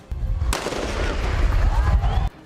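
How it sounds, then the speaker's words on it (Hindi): Police fire gunshots into the air to break up a stone-throwing protest over a lockdown market closure. The result is a dense, loud burst of cracking reports that runs almost continuously for about two seconds and then stops abruptly. "इस हंगामे को शांत कराने के लिए पुलिस को हवा में गोलियां चलानी पड़ी"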